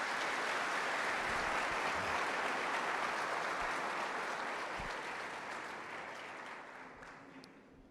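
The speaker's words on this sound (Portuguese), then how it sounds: "Vamos dar um aplauso para o Giovanni" Audience at a church service applauds a man named Giovanni, a broad, even wash of many hands that holds steady and then gradually tapers off.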